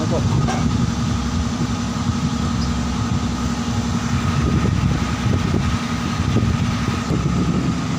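Continuous low engine rumble of a boat motor idling while reversing, steady and fairly loud throughout with no voices.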